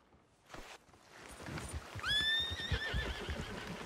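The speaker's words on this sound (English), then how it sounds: "Are you going to mount that new horse of yours or not?" A horse in the video game Red Dead Redemption 2 gives one loud whinny partway through, with hoof clip-clops and light movement noise before and after it.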